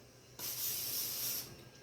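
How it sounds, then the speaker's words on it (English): A single short hissing burst of cooking spray onto a cookie sheet, lasting about a second, close and fairly soft, then stops. "I've got out a cookie sheet, and I'm going to give it just a light spraying"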